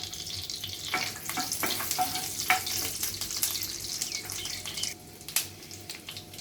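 Garlic sizzles in butter in a pan for a creamy mushroom soup, a steady close frying hiss broken by scraping stirs and small clatters.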